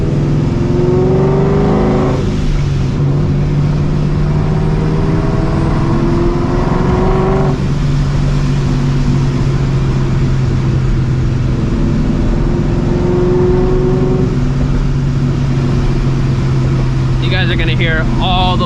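A loud supercharged New Edge Ford Mustang GT drives on city streets, its engine droning steadily with rising and falling revs and a sharp burst near the end, with a voice talking over the engine.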